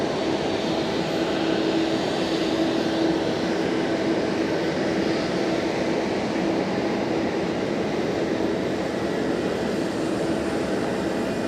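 A Japan Airlines airliner departing Fukuoka Airport gives off a steady, broad engine roar with a faint sustained whine, holding at even loudness throughout and heard alone without voices.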